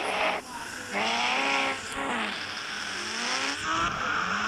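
A fast motorbike in a video game, its engine revving loudly and steadily with rising and falling pitch sweeps as it accelerates and shifts, close and continuous with no talk.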